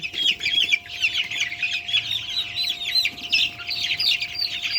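A flock of Sonali chickens clucks and chatters steadily and busily, with a faint electrical hum underneath and no talking.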